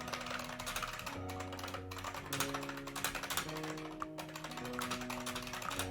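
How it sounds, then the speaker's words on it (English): Fingers tap away on a computer keyboard in quick, uneven bursts of clicks, close and fairly quiet, with a faint tonal backdrop running underneath. "I'm gonna mute for a second because I'm typing"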